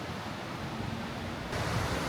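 Water crashes down a waterfall in central Seoul, a dense, steady roar close by that swells slightly louder near the end, with no voices.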